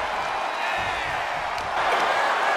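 Loud arena crowd cheering in the WWE 2K23 wrestling game during an NXT women's match, a dense steady roar of many voices that swells toward the end.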